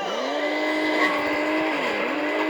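Race car engine in the mobile game Hill Climb Racing 2 holds a steady, loud electronic whine that rises and dips slightly in pitch as it accelerates, running alone without talk for a couple of seconds.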